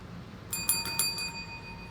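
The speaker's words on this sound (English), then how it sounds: "celebratory bell." A small celebratory bell rung in a quick burst of about five bright, ringing strikes that fade into a short sustained chime, heard alone at close range.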